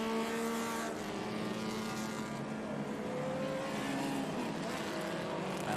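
A race car from a 1970s Midwest racing history runs loud and steady in vintage racing qualifying, engine drone holding strong throughout with shifting tonal harmonics as it passes on track, no talk.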